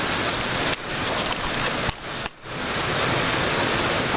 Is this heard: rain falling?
yes